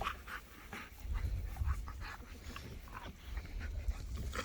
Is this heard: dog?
yes